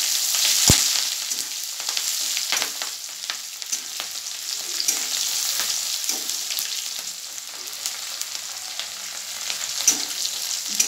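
Spices, chopped chili and ginger fry lightly in a pan for a cabbage dish, giving a steady close sizzle that runs throughout with a few soft stirring scrapes and no voices.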